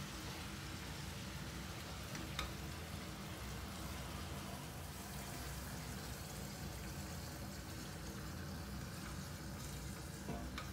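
Chicken, onions and peeled tomatoes frying together in a pan for a curry, a continuous even sizzle at close range with a couple of faint utensil clicks and no talking.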